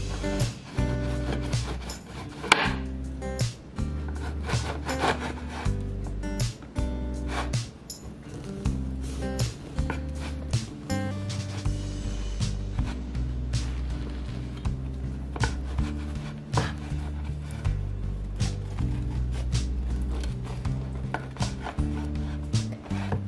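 A not-so-sharp bread knife saws through a soft-crusted artisan einkorn loaf, giving repeated rough scraping and chopping strokes in an uneven rhythm, close and moderately loud over a steady tonal background.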